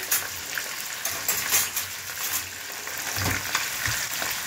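Fish fries in a pan with a steady, fairly loud sizzle, occasional bursts of spattering and a few low knocks underneath.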